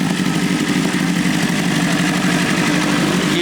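A motorcycle engine runs steadily at a car show hosted by a luxury dealership, a loud, continuous, even drone with no talking over it.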